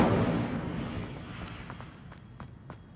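A fire spell cast in Hogwarts Legacy: a loud rushing burst that fades over a few seconds, followed by several short, sharp crackling pops.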